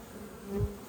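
Honey bees buzz around an open hive during comb work, a steady close drone with a brief louder swell as one passes near.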